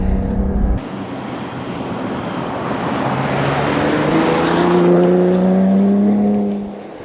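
A 2025 Ram RHO pickup's engine roars steadily as it powers across loose dirt, loud and close with rising and falling revs and rushing tyre and gravel noise throughout.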